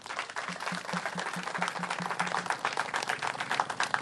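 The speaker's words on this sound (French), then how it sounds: "Ça s'applaudit très très fort." An audience bursts into loud, sustained applause: dense clapping fills the whole stretch at a steady level, with a faint repeating tonal beep partway through and no talking.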